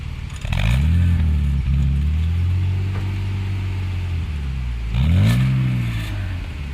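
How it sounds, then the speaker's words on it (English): A BMW E34 520i engine revs twice through its exhaust, rising and falling over a steady deep idle, loud and close. "This is how the exhaust sounds like."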